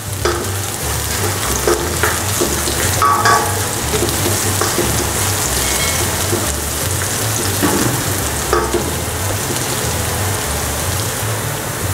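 Pork neck frying and browning in a pan for garlicky adobo, a steady, close, dense sizzle with constant crackle and spatter running throughout with no talking.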